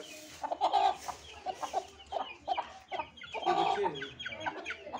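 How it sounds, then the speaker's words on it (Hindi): Roosters and hens on a farm plot in Haryana, beside buffalo being kept there, cluck and squawk in a busy, uneven series of calls at close to middle distance over a low background hum. "मुर्गे"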